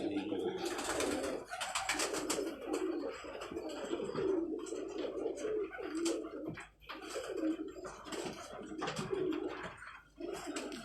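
Pigeons, including a Ferozpuri breed, coo in soft repeated throaty phrases on a rooftop, with several birds calling close by, while people talk over them.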